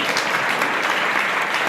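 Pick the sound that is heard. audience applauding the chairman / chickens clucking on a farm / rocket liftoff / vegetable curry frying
audience applauding the chairman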